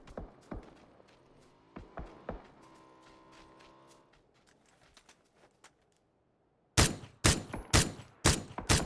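Sharp rifle shots crack from an SKS with a 6x scope in a video game, a few scattered single reports early, then a rapid burst of loud shots near the end.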